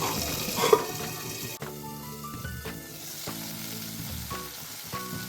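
Tomatoes cook in a pan for a chutney with garlic, ginger and mint, giving a soft sizzle with intermittent stirring clinks and scrapes, faint and free of speech.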